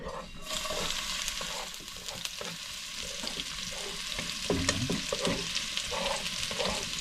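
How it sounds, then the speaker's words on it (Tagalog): Garlic and onion sautéing in hot oil in a wok, a continuous crackling sizzle with repeated stirring scrapes and clanks, close and moderately loud. "Gisa lang natin yung ating bawang sibuyas."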